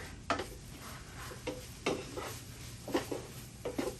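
Celery and onion sautéing in a pan, quiet background sizzle broken by a handful of sharp spatula scrapes and clinks against the pan at irregular intervals, close-up and without talking.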